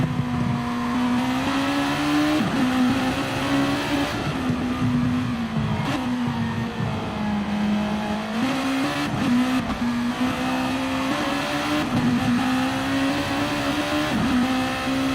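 A GT-class race car engine in a racing simulator screams at high revs, with pitch climbing and dropping through repeated gear shifts, loud and continuous with no talking.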